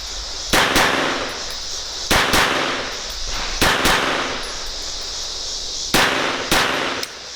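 Rock Island XTM22 .22 pistol fired outdoors in sharp, loud cracks, mostly in quick pairs spaced a second or more apart, each with a brief metallic ring after, and no talking.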